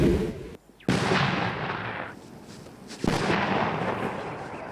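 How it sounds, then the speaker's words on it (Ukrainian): Sappers set off a controlled remote detonation of found artillery shells: two sharp, loud blasts about two seconds apart, each followed by a long rumbling roar that lingers without voices. "Відійшовши на безпечну відстань, піротехніки дистанційно знешкоджують виявлені снаряди."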